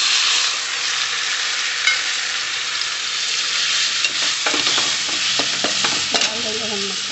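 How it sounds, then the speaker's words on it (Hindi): Tomato and garlic added to browned onions in a hot kadhai, frying with a steady loud sizzle while a spoon stirs and scrapes in bursts through the second half; no talking. "हम डाल देते हैं टमाटर और लहसुन।"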